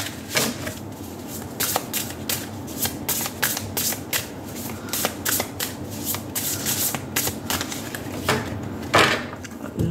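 A True Love Oracle card deck being shuffled by hand, close and crisp, with quick riffling flicks and soft shuffling clatter repeating steadily throughout.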